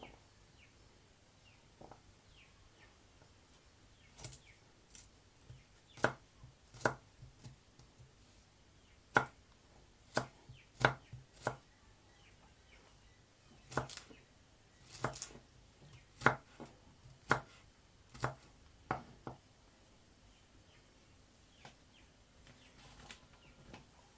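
Garlic is chopped with a knife on a board in a series of quick, crisp taps that come in irregular bursts with pauses between them, close and fairly quiet.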